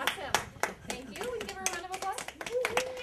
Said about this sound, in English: We give a round of applause